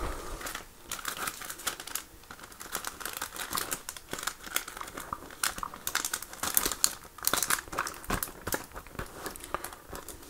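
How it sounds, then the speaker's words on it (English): Crinkly plastic wrappers are peeled and torn off TDK cassettes, with dense crackling and sharp rustles throughout, near and steady, and no voices. "So that's why I wanted to be very careful when I was unwrapping these."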